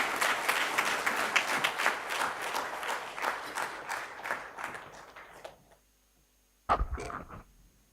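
Audience applause at a book launch on legal analysis, a dense round of clapping that thins and fades out, then a short final burst of claps near the end.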